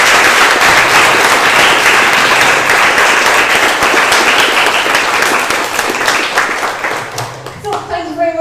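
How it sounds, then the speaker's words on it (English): Sustained, dense applause from an indoor audience at a Google Developers Group Galway tech meetup, clapping steadily for visiting speakers, then thinning and breaking up into scattered claps and faint murmur near the end. "just a big round of applause for them"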